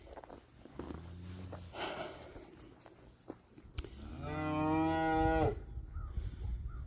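Jersey cows moo nearby: a low moo early on, then a long, loud, rising moo, with soft shuffling and breathing around them.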